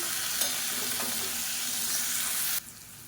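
Vegetables with ginger-garlic paste, green chillies and tomato sauteing in hot oil in a pan, a steady bright sizzle with faint stirring scrapes that drops off sharply near the end.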